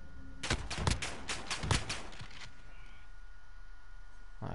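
Distant gunfire rattles in Call of Duty Modern Warfare, a quick burst of several sharp shots followed by scattered fainter pops, then fading into quiet ambient game background.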